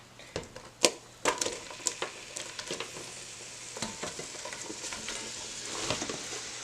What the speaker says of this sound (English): the butter is pretty much melted in here, and I'm going to dump the onions in.